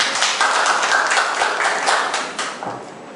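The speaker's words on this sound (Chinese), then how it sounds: "大家掌声欢迎他。" A small audience at a self-introduction meetup in Kaohsiung claps to welcome a speaker, a dense, loud burst of many hands that fades over about three seconds.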